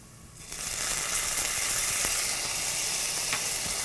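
Minced garlic and onion sizzle steadily in a hot pan while being stirred, a close, continuous frying hiss that swells in after a quiet start and holds loud, with a few faint scrapes of the utensil.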